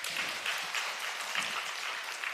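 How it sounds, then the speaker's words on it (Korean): A church congregation applauds a deacon during a Sunday service, a soft, steady patter of many hands clapping together, fairly quiet and somewhat distant, with no voices over it. "잘 만든 집사님 박수 한번 쳐주세요"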